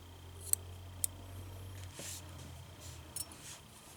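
Scissors snipping crochet yarn: a few faint, sharp clicks spaced apart in a quiet room, with soft handling rustles between them.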